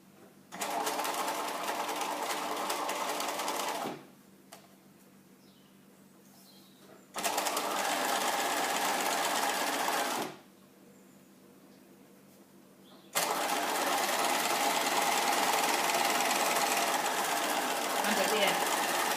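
Sewing machine stitching a seam through folded fabric, running in three sustained bursts of rapid mechanical whirring separated by brief quiet pauses, close and loud.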